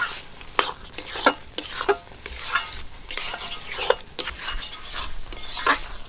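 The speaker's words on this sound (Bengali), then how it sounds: "মাছগুলো দিয়ে আবারও নাড়াচাড়া করে নেব" Fried fish being stirred with taro flowers in a pan: repeated scraping and rubbing strokes of a spatula against the pan over a soft ongoing sizzle, close and fairly loud, no voices.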